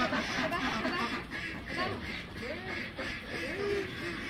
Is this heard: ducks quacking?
yes